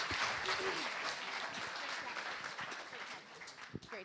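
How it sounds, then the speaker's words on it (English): Audience applause at a UC Berkeley startup pitch event, a dense wash of clapping from a seated crowd that carries on steadily for the whole stretch with faint voices mixed in. "Everybody give them a round of applause."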